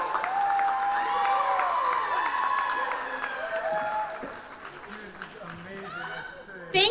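An audience at a school open mic night applauds performers Lara and Irene, with clapping and some cheering running under a host's talk and sung or held vocal tones.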